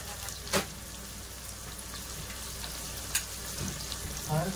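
Onion fries in a pan for a mutton dish, a soft steady sizzle with a few brief stirring scrapes and clinks.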